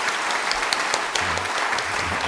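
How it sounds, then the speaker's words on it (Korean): A crowd at a monthly morning assembly of public officials claps together, a dense continuous patter of many hands that holds steady throughout at close range. "잘했다고 칭찬 박수 한번 보내주세요"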